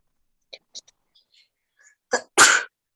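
A single loud sneeze, preceded by a sharp intake of breath and a few faint quiet sounds, in an otherwise silent room.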